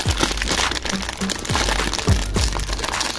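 Plastic crinkling and cracking as cutters snip tape and LEGO-compatible dinosaur toy packaging is opened, a run of short, close crunches and rustles.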